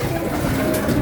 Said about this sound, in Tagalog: Okay mga kaibon, ayan, may isa na tayo, si More